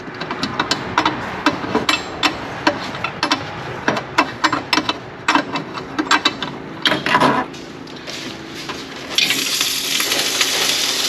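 Mechanics remove the valve cover from an LS engine swapped into a Nova, with repeated sharp metallic clicks and taps of tools and bolts, close and irregular, and a steady hiss rising near the end.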